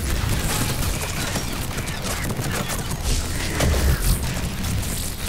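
Gunfire from a shooter video game crackles in dense, rapid bursts and booms, loud and continuous through the short stretch with heavy low-end thumps.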